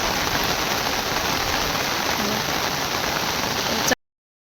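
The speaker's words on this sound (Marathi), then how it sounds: "किती पाऊस पडतो" Heavy rain pours down on a farm in a steady, dense hiss that fills the whole stretch, then cuts off abruptly at the end.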